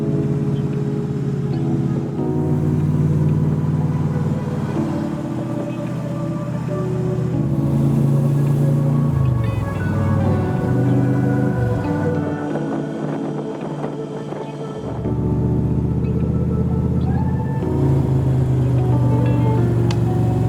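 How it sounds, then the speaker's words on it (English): An AC Cobra sports car drives on an open road, its engine a loud, continuous rumble that rises and falls in pitch through gear changes, with a brief easing around the middle. "We are going to start up the Cobra."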